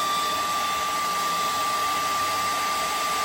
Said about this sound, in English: If you ain't got no heating gun, you can just put the blow dry on it